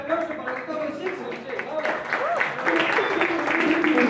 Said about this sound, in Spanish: Fuerte el aplauso para Gustavo Isenso